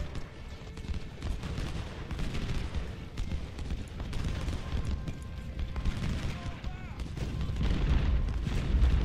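Massed troops open fire in the Ultimate General: Civil War strategy game at Corinth, a dense, rumbling din of musketry and booms that swells toward the end, with no one talking over it.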